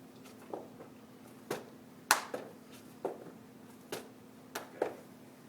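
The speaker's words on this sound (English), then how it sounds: "He's going to jump straight up with a clap at the top" Burpees performed at a fitness competition workout, each ending in a jump with a hand clap overhead: sharp single claps, roughly seven spaced about a second apart, faint against a quiet room hum with a steady tone underneath.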